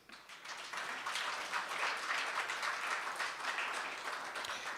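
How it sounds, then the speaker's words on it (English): Audience applause at a farewell send-off for a colleague, a dense, steady wash of many hands clapping that swells in after a brief quiet start and holds fairly loud throughout, with no talking over it. "A round of applause once more."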